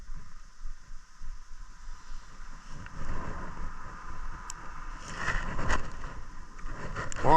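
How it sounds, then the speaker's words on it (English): Outdoors by open water, gusty wind rumbles and buffets the microphone in uneven waves that swell louder toward the end, with a few faint scrapes mixed in. "that wind is really blowing too"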